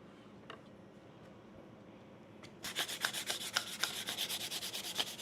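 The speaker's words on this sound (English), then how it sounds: "Right now I'm sanding with 400 grit sandpaper." Quiet room tone, then from about midway a steady, close scratchy rubbing of 400-grit sandpaper smoothing a painted costume armor piece in quick repeated back-and-forth strokes.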